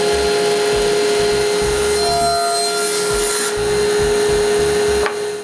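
A power tool cuts the shoulder of a wood joint with a loud, steady high whine and grinding buzz that runs without pause, then shifts as the cut ends.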